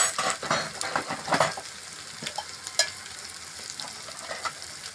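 Spices such as chili powder, cumin powder and coriander powder frying and being stirred in a pan for a paneer cashew curry, with steady sizzling and scraping clinks from a spoon against the pan.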